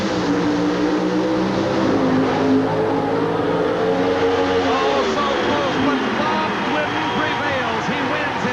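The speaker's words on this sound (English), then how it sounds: "bringing the RPM on these 500 cubic inch engines to their peak, and Glidden's away first" Pro stock drag racing cars with 500 cubic inch engines roar and rev at high pitch, rising as they launch and pull away, loud and continuous, with a voice faintly beneath, at the 1988 NHRA Supernationals in Houston.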